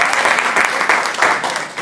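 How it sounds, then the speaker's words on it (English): A church congregation claps together for the Lord, a loud, dense burst of many hands sustained evenly throughout with a few voices mixed in. "Another hand clap for the Lord."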